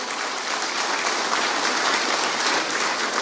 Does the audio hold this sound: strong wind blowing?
no